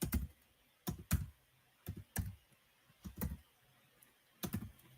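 Keystrokes on a computer keyboard come in short, close-up bursts of clicks with brief pauses between them, irregular in rhythm and fairly quiet, with no voices.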